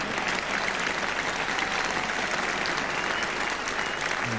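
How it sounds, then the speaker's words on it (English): Steady, dense applause from a large cricket crowd at a 1977 Ashes Test, continuous and loud throughout with no break. "the applause for that long sprint back by Derek Randall"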